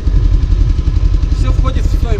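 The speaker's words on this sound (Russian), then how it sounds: "Покатушки на тракторе." A tractor engine runs steadily with a low rumbling drone and some rattling clatter during a ride after a fishing trip, close and continuous, with a voice talking over it near the end.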